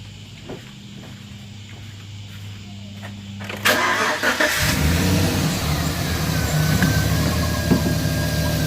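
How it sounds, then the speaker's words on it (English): A 2007-2013 Chevrolet Silverado truck engine cranks and catches, settling into a steady close idle, with faint clicks and footsteps before the start. "let's fire her up, see if the fans come on."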